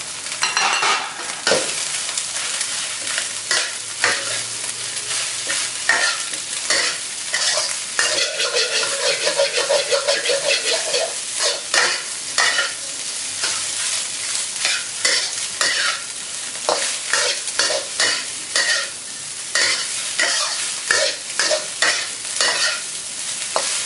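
Rice goes into a hot pan with set egg and is stir-fried with quick, rhythmic scraping and clattering of the spatula over a steady sizzle, loud and close for about twenty seconds with no talking.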